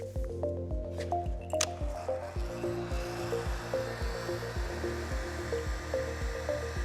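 A heat gun blows steadily while warming colored PPF film on a car hood, a constant airy hiss under a repeating low rhythmic thumping, fairly close and moderately loud.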